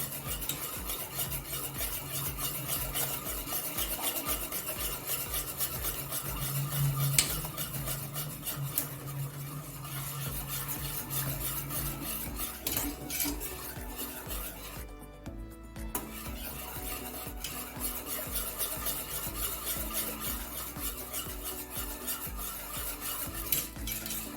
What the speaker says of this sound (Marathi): त्याच्यामध्ये चीज चांगलं मेल्ट होस तोपर्यंत त्याला हलवत राहायचं आहे